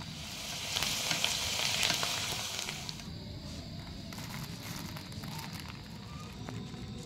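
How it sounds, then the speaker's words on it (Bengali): Soaked chana dal frying in hot oil for homemade chanachur, a dense continuous sizzle with occasional stirring scrapes, louder at first and then settling to a steadier crackle. "আর এইভাবেই ছোলার ডালগুলোকে ভেজে নিতে হবে।"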